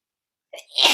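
A single sharp human sneeze, close and loud, with a brief inhaled catch just before the burst, heard alone in an otherwise silent moment.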